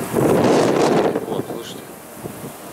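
Strong wind buffets the microphone in a heavy roaring rush that eases off after a second or so, leaving a softer blowing hiss.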